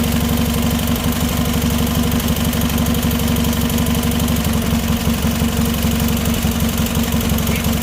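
Briggs & Stratton opposed twin engine running steadily, a loud continuous close-up drone with a fast, even mechanical pulse and no pauses.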